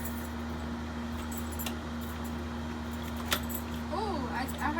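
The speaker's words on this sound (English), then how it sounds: "Let me just try the other key." Keys jangle and clink steadily at close range while a key is tried in the door lock of an unfurnished apartment, over a constant low hum, with a brief voice near the end.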